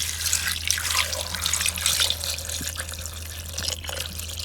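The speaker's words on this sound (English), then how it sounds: "We are going to be adding a little bit of water." Water pours steadily into a cooking pot in an African village kitchen while matooke and beef stew are being made, a close, continuous splashing trickle with faint clatter.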